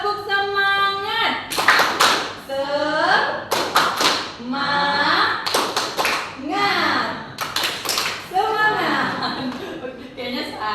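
A group does the Indonesian 'tepuk semangat' spirit clap in a classroom session, bursts of rhythmic clapping and shouted chants repeating several times, with chuckles and a leader's voice in between.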